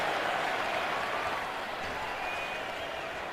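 Roaring stadium crowd at Arrowhead during a Raiders at Chiefs football game in 2017, a steady dense wash of cheering and noise that stays loud throughout.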